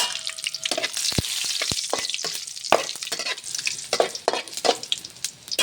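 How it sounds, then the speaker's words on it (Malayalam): A few green chillies go into hot oil where mustard seeds have already popped, sizzling loudly with sharp crackles, spits and scraping stirs close by. "അപ്പോൾ കടുക് പൊട്ടിക്കഴിഞ്ഞു ഇനി രണ്ടും മൂന്നാല് പച്ചമുളക് ഇതിട്ട് ഇടുന്നു"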